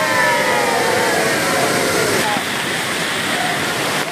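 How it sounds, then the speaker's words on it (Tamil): Thirparappu Waterfalls roars in a loud, continuous rush of falling water that stays close and steady throughout, with a speaking voice faintly mixed in. "இந்த வாட்டர் ஃபால்ஸை பார்க்குறப்ப அவ்வளோ அற்புதமாக இருக்குது"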